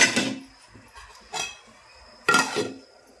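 Metal lid set onto a cooking pot of boiling egg masala curry, three separate clanks and clinks spaced over a few seconds, close and fairly sharp against a quiet kitchen.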